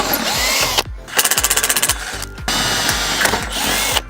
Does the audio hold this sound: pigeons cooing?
no